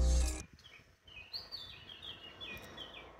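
Birds chirp and sing outside a quiet second-floor apartment overlooking the sea and hills, with soft, scattered calls rising after a brief thump at the start.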